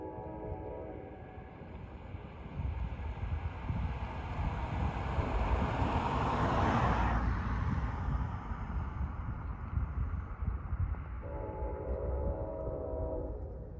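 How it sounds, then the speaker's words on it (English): Norfolk Southern K5LLA train horn sounds faintly from far off in Pennsylvania, a brief chord at the start and again near the end, with a broad rumble of rail traffic swelling in between. "Oh, I hear a beautiful K5 LLA to the west."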